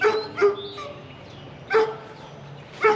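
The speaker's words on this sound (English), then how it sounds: "The doggies are barking a lot because they want us to play with them" Dogs barking in a house's backyard, a few clear, close barks and yips spaced out over a steady outdoor background, with no talking.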